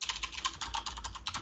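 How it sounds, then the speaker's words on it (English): Steady fast typing on a computer keyboard, a dense run of light clicking keystrokes picked up faintly on an open microphone during an online talk. "I can hear someone typing."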